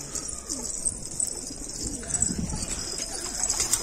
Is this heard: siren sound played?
no